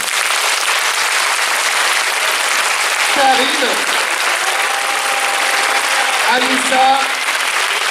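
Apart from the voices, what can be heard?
audience applause for teachers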